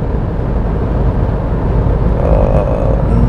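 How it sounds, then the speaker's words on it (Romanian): Steady engine and road drone inside a Dacia Jogger 1.0 ECO-G 100 with a six-speed manual gearbox while driving, a continuous low rumble with a faint whir holding level throughout, no voices. "e un pic mai mare zgomotul în mașină, zgomotul ambiental"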